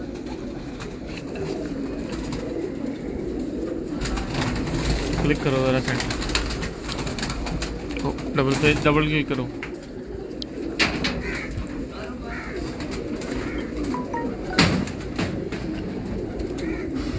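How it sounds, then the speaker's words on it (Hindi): Pigeons coo softly in a breeder's loft in Karachi, with low murmuring calls and a few wing flutters running under steady talk from people nearby. "ये कबूतर के कुंडे देख लो ये रब्बी हरने हैं, वैसे नहीं हरने कबूतर है।"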